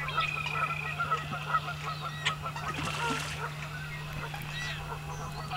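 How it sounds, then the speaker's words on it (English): American coots, members of the rail family, give a steady stream of nasal honking and clucking calls that overlap and run continuously. A flock chatters at moderate distance over a constant low hum. "Coots are members of the rail family"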